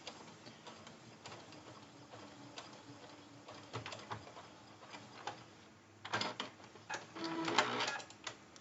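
Sewing machine backstitching the lining of a zipper pouch, soft irregular ticking stitches at first, then louder bursts of quick stitching near the end, close and otherwise quiet.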